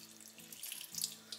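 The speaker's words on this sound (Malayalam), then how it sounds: "നമുക്കിതിലേക്ക് കുറച്ചുകൂടെ വെള്ളം ചേർത്ത് കൊടുക്കുകയാണ്." Water running from a tap into a pot of pumpkin and split chickpea curry, a steady close trickle lasting just over a second with no voices.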